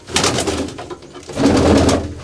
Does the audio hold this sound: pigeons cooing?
yes